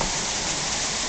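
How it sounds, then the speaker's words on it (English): Heavy hurricane rain from Hurricane Hermine pours down in San Antonio, Texas, a loud, steady, dense hiss of downpour drumming on surfaces without pause, close and unbroken with no voices. "You can't even see through the rain."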